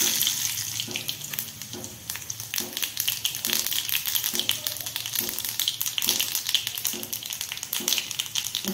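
Onion, garlic, coriander, curry leaves and mustard seeds tempered in hot oil for gavran-style pithale, crackling and sizzling steadily close up, with rhythmic bursts as the pan is stirred.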